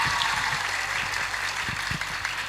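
An audience claps together in a steady, dense wash of applause that holds at an even level for about three seconds, with no voices over it.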